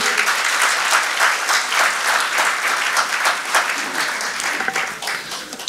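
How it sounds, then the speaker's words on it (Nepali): A congregation at a church gathering applauds a pastor, sustained, dense clapping from many hands that fills the room at steady volume. "हाम्रो आदरणीय पास्टरज्यूलाई अझ एकचोटि जोरदार ताली बजाएर हामी धन्यवाद दिनेछौँ।"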